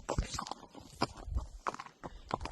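A draft-type horse built for pulling walks slowly along a trail, hooves clip-clopping in an uneven, plodding rhythm close by, with some rustle and tack noise between steps.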